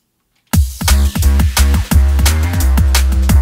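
In a produced beat, a shaker is layered into a punchy drum pattern. Loud kicks and snares land in a steady groove with bright high rattling over the top, starting sharply after a brief silence.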